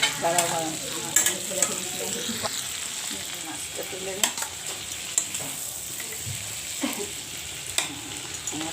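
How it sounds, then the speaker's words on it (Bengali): Rohu fish sizzles and crackles in hot oil in a pan, with a spatula scraping and clinking at intervals as pieces are turned; someone speaks briefly over the frying. "মাছটা ভাজা হয়ে গেছে"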